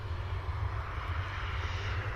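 A C-17 military transport aircraft at RAF Mildenhall gives off a steady, loud jet roar that holds evenly throughout, with no talk over it.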